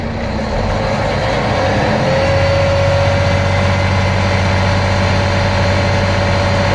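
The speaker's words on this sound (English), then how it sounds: "the air compressor will stop pumping air to the tanks" A truck's air compressor pumps air into its tanks over a steady, loud engine idle, with a continuous low rumble and droning hum and no talking.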